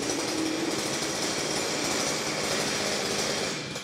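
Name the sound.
wheeled grass cutter engine running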